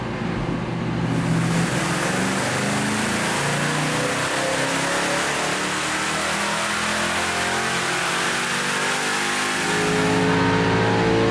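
A 1967 Shelby GT350 Mustang V8 revs hard on a chassis dyno, a loud, sustained full-throttle roar that holds steady for about ten seconds before the engine eases off near the end.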